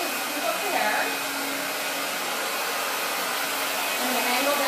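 A blow dryer dries curly, coarse, frizzy hair during a blowout, giving a loud, steady, close whooshing roar that continues without a break.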